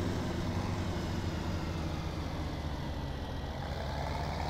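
A tractor engine in the Farming Simulator 17 video game idles with a steady, low, dense diesel rumble, continuous and even throughout.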